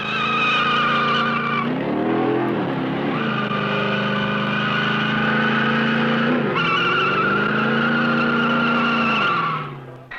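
A 1966 Chevrolet car labors through a rock cycle torture test of transmission and drive components, its engine droning loud and steady with rising and falling revs and tire scrub throughout, fading out at the end.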